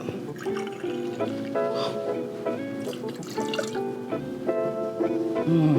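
Bourbon poured into a mini shot glass at a home table, bright clinking and liquid trickle with several short glassy taps, close and clear, with faint background murmur.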